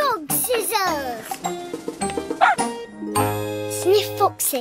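A cartoon dog from a children's animated show gives a few short, yappy barks mixed in with children's voices talking and a light jingle, with sustained tones near the end.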